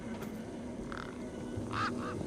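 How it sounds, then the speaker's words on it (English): Birds squawking in the video game Beyond a Steel Sky, a few short honking, goose-like calls near the end over a low steady background hum. "Those birds weren't going to let me anywhere near the back of the truck."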